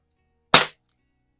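A single sharp, close pop from a Dan Wesson Valor 1911 CO2 pellet pistol, decaying quickly, followed a moment later by a faint small tick of the pellet striking.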